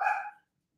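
A single short dog bark, close and fairly loud, cutting off sharply into silence.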